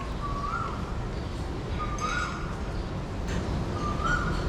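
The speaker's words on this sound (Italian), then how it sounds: "quando sento questo uccello qua veramente mi si apre il cuore" A tropical bird in Pattaya, Thailand, repeats a rising whistled call three times at steady intervals, clear and fairly near over a constant hiss of outdoor ambience.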